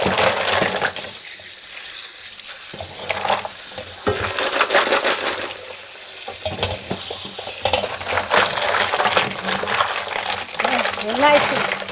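Mussels being rinsed in water in a kitchen, with splashing, swishing and clinking of shells that run steadily and fairly close throughout, while someone talks over parts of it.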